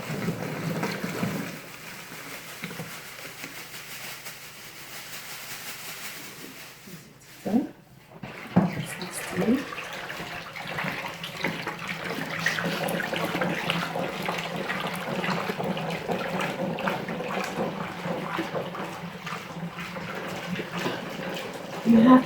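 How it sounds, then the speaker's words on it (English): Silk paint mixed with titanium is stirred steadily in a container, making a continuous wet churning and sloshing at moderate level. A few sharper knocks come midway, and voices talk intermittently over it. "Stir very well for like 20 minutes because your titan has to blend"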